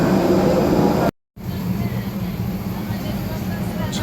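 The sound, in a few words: airplane engine while boarding a plane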